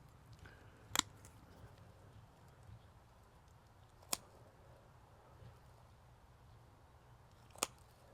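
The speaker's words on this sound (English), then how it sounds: "we just cut off another 1 to 2 inches up there" Pruning shears cutting a Korean fir bonsai branch: three sharp, quiet snips spaced a few seconds apart over a faint, steady room hum.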